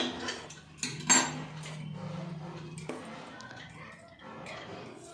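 A spoon knocks and scrapes against a metal pot while half-boiled rice is layered into a home-style chicken biryani, a few sharp clinks and a soft sliding rustle close by.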